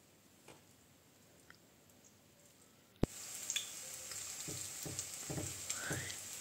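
Soya chunks frying in oil in a pan over reduced heat: a steady close sizzle starts abruptly partway through after a sharp knock, with scattered crackles and pops, preceded by quiet room tone with faint ticks.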